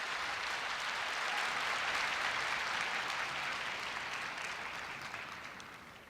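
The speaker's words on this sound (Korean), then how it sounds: "큰 박수 부탁드리겠습니다." A large crowd at a Korea University 2016 entrance ceremony gives a loud, sustained round of applause, a dense unbroken roar of clapping that holds steady and only begins to taper near the end.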